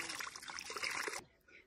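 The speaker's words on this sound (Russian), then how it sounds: "Все это тщательно промываем под проточной водой." Tap water runs steadily over flowers and leaves being rinsed, a close, splashy trickle that stops abruptly partway through and leaves near silence.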